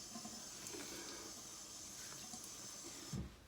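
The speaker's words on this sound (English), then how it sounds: "so I'm going to wet my face." A tap runs in a sink as a man wets his face before shaving with shave soap, a faint continuous hissing water flow with a few small splashes near the end.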